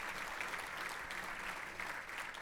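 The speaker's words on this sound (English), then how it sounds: "that's worth a round of applause" Audience applause at a keynote event for an energy efficiency gathering, dense steady clapping from a large crowd filling the room, continuous and even throughout.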